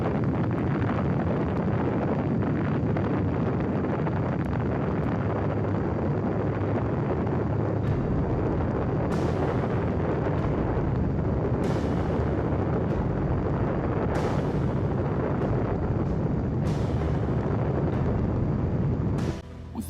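An atomic bomb explosion sound effect gives a continuous loud deep rumbling roar with wind-like buffeting. Sharp bursts recur through the second half, and no voices are heard.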